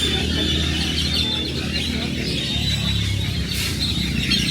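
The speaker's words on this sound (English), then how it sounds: "these trees over here have so many birds in them, it's crazy" A dense chorus of many birds calls from trees in the town of Xico, Veracruz, Mexico, a steady, loud wash of chirps and tweets with rain-like background noise throughout.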